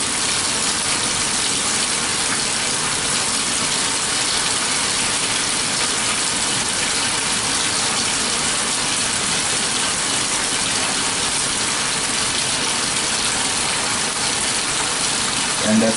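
Water gushing steadily into the tub of a Laundry Alternative Superpop compact washer as it fills from a tap, a constant loud rushing hiss with faint mechanical rattling and no break across the stretch.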